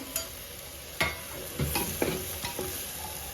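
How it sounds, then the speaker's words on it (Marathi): Mutton and coconut fry in hot oil at home, a close sizzling hiss punctuated by several sharp spoon scrapes and stirring knocks against the pan, no talking. "तेल पण गरम झालेलं आहे हे बघू शकता आणि ह्याच्यामध्ये आता हे मटण टाकून घेणार आहे"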